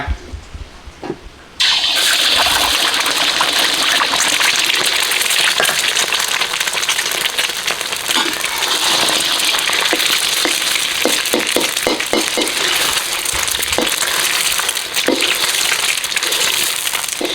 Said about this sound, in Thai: น้ำมันร้อนแล้วก็ใส่ไข่ลงไป